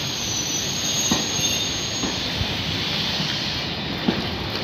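Corail Intercités passenger coaches rolling through Lisieux station with a steady rail roar, faint wheel squeal and occasional clicks of wheels over rail joints, no voices.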